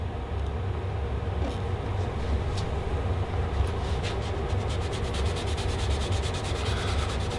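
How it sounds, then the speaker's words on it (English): Sandpaper rubs across a one-piece maple guitar top in steady, brisk back-and-forth strokes, a close, continuous gritty scraping that keeps an even pace throughout. "We'll sand some of this too for sure."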